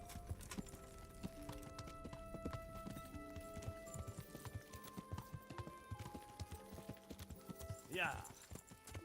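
Horse hooves clip-clopping at a steady walking rhythm in the medieval video game Kingdom Come: Deliverance, close and continuous, with a short rising whinny near the end over a busy background.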